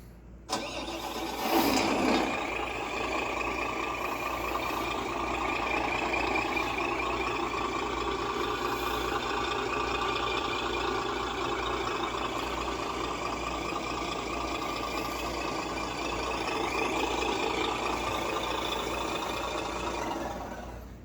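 A King Hauler truck running with an engine sound unit, starting with a short rising crank and then settling into a steady, fairly loud mid-pitched engine drone that continues throughout.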